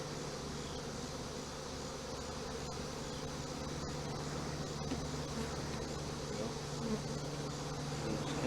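Honey bees swarm and buzz steadily around an open hive during a pre-winter inspection, a dense, continuous close drone with a low hum running underneath throughout.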